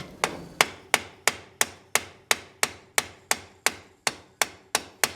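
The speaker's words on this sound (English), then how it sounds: "Sometimes we gotta tap on the carburetor." A lawn mower carburetor is tapped with a hard tool: about fourteen crisp, evenly spaced knocks, close and clear, each ringing briefly before the next, with no talking.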